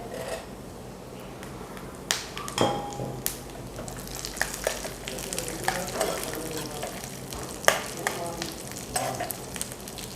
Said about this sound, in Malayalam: വറക്കാൻ വെച്ച് തേങ്ങാക്കൊത്തും അണ്ടിപ്പരിപ്പ് മുന്തിരിയൊക്കെ നല്ല ബ്രൗൺ കളറായിട്ടുണ്ട്